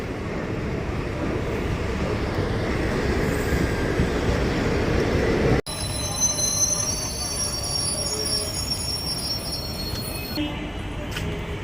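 Metro train arriving at a station in Hyderabad, with loud metallic wheel squeal and rumbling rail noise building up close by; people talk nearby over the train.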